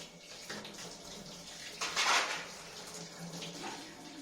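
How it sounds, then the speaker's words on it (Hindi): Tap water runs steadily into a kitchen sink while a plate is rinsed under it, a continuous close splashing wash that briefly swells louder midway, with no talking. "ये जो प्लेट बची है इसको धो के वॉश करके रख भी दो साइड"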